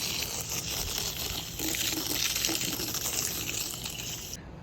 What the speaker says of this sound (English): now we're rinsing out our hose because had some solids stuck in there